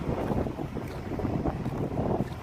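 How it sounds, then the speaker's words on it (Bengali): Strong wind gusts across an open outdoor area in Saudi Arabia, a loud, rough, continuous rumble buffeting the microphone with no speech. "বাতাস, কঠিন বাতাস, অনেক বাতাস চলতেছে।"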